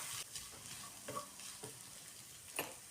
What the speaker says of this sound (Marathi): आता टाकूया शेंगदाणे बारीक केलेले। परत मीडियम गॅसवरती 2 मिनिटं परतून घेऊ।